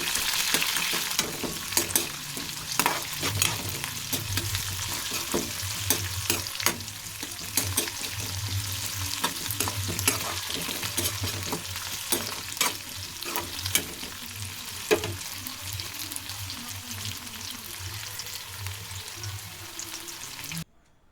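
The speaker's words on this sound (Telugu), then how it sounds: "పచ్చిమిర్చి ఉల్లిపాయ ముక్కలు అయితే వేసి వేయించుకోండి" Steady frying sizzle of green chillies and onions in hot oil, with occasional stirring clinks, continuous and close for the whole stretch.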